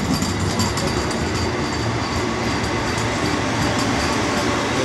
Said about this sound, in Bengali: দ্রুততার সহিত সামনের দিকে এগিয়ে আসছে পাটনা হাওড়া বন্দে ভারত এক্সপ্রেস